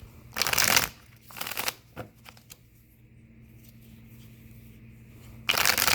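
Tarot cards shuffled in several quick riffling bursts, loud and close, with short pauses of quiet between them and a final burst at the end.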